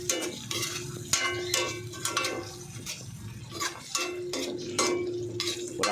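Vegetables being stirred in a cooking pot, with repeated sharp scraping and clinking strokes of a utensil against the pot over a steady background hum, close and moderately loud.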